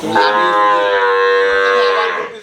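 A cow at a cattle market gives one long, loud, close moo lasting about two seconds, rising and then tapering off, with no voices.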